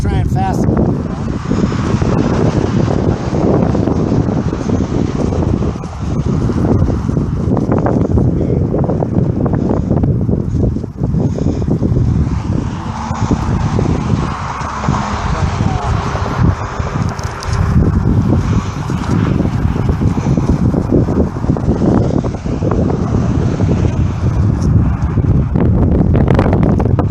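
Strong wind gusts buffet a hilltop outside a lawn and landscape business headquarters, a loud, roaring rush with heavy microphone buffeting that rises and falls continuously, with someone talking over it at times.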